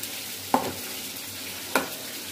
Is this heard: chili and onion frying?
yes